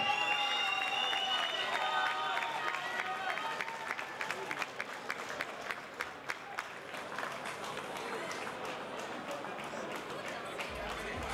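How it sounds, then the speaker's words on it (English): A crowd at a fighting championship event applauds and cheers for fighter Cameron Cooke, loud at first and then thinning into scattered claps and chatter, with a voice carrying over the noise. "please, a big round of applause for Cameron Cooke"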